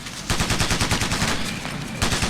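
Rapid gunfire from the video game Ghost Recon Navy SEALs during a BUD/S third-phase training exercise: dense, rattling bursts of automatic shots in quick succession, loud and continuous for about two seconds, with no talking.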